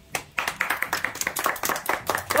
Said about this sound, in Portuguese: vamos dar umas palmas pra tia Fernanda e pra tia Lu